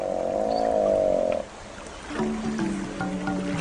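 A tired young adult hippopotamus with a small wound on its nose groans as it wades into the water. A long, loud, drawn-out tonal moan is followed by lower, rumbling grunts.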